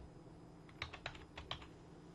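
Keys clatter on a computer keyboard in a short burst of several quick, distinct clicks over a quiet background hum, with no speech.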